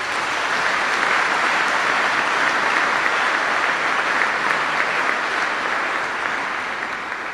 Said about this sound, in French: Je voudrais qu'on applaudisse les catéchistes.